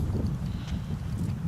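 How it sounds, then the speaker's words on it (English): Wind blows steadily outdoors at night, a constant low buffeting rumble against the microphone with no break. "It is still windy"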